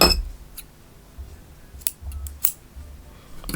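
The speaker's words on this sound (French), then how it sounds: "On va couper le fil jaune." Scissors snip through yellow yarn during crochet work on a granny-style top, giving a few quiet, sharp close-up clicks spread across a near-silent background.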